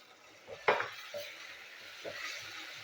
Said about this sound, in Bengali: তো এটা এই পেঁয়াজের সাথে আমি এটা ভেজে নেবো।